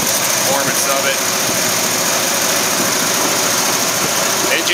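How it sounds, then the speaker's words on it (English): A restored 1973 Ford Bronco with a manual transmission idles steadily up close, a continuous loud engine rumble with even vibration throughout and no revving. "Engine sits there perfectly still."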